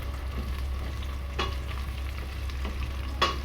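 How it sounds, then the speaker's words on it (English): Star anise, cardamom, cloves and a cinnamon stick fry with translucent onions in a pot for Malaysian chicken curry, a constant low sizzle broken by a few sharp stirring clinks and scrapes. "I'm gonna fry those up."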